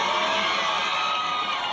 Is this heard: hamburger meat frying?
no